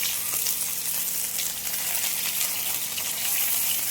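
A whole fish fries steadily in a pan, giving a continuous loud hiss and crackle with no pauses or voices.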